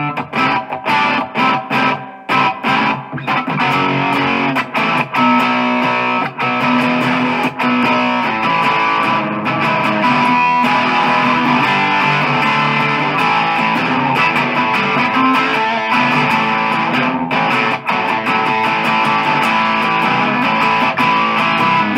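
An electric guitar runs through a Boss DS-1 distortion pedal, playing loud, gritty distorted chords and notes in a continuous riff with sustained tones and no voices.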